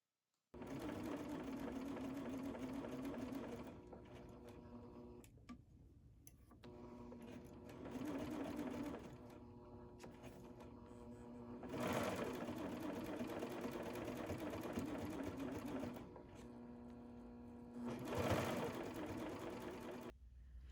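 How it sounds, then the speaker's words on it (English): A serger sewing machine stitches the side seam of a hand-dyed rayon dress, a close, steady mechanical whir in several long runs separated by short pauses, faint overall and with no talking. "just remove your pins and you'll be just fine to finish the serge of the entire side seam"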